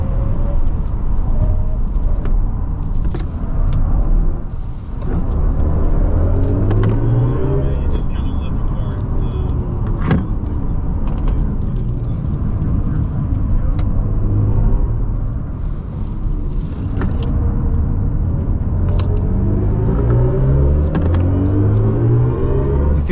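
A 2024 BMW i5 M60 electric car accelerating hard on a performance drive, heard from inside as a rising, sweeping motor whine over deep road rumble, loud and continuous, with someone talking over it at times.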